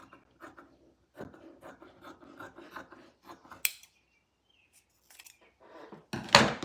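Scissors snip through a fabric ruffle piece while sewing a sitter dress, a close series of crisp cutting strokes and rasping slides, then a brief silence and a louder rustling handling of the fabric at the end.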